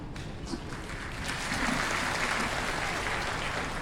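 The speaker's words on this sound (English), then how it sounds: "give them all a big round of applause" An audience at a company gathering breaks into applause, a dense, steady roar of clapping that swells slightly and holds at full strength to the end.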